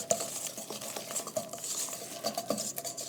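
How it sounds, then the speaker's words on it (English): Whole wheat vegan pancake batter whisked in a bowl, a steady close run of quick scraping taps and light metallic clinks with no talking. "We're going to whisk that all up."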